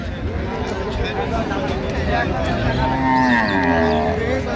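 Dairy cows and calves low at a busy rural cattle market in Dinajpur, drawn-out moos rising over a background of crowd chatter and nearby voices.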